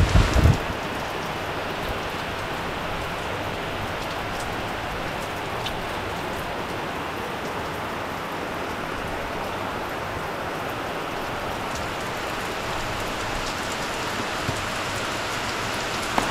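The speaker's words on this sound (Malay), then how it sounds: "Banyak pagi ni hujan." Heavy morning rain falls steadily at a chalet in Gopeng, Perak: a dense, even hiss of drops on surfaces, loud and constant throughout with no talk.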